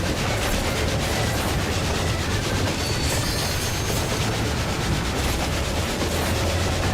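A train in the Final Fantasy XIV video game rumbles in a dense, loud, continuous roar with a steady clickety-clack rhythm, filling the whole stretch with no voices.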